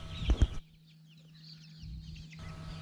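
Four-week-old Cornish cross chickens make soft, faint clucks and chirps in a farm setting, after a brief thump close by at the start.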